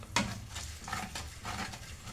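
Amla pickle ingredients, including tamarind, are being mixed by hand in a bowl. The sound is a soft, close, wet squishing and patting that repeats in uneven strokes, with no talk over it.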